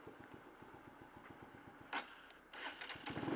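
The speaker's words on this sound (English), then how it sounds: "The engine's cut out twice, actually, you probably noticed." A motorcycle engine idles low with a steady, rapid put-put pulse, then sputters and cuts out, followed by a burst of noise and a restart, all fairly quiet.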